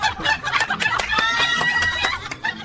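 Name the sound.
parrot squawking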